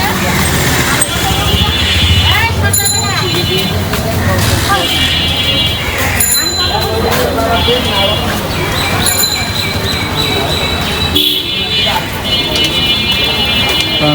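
Busy street traffic with rickshaws on the day before Eid gives a dense, loud roar of engines and horns, with bells and sharp honks cutting through steady crowd babble and nearby talking.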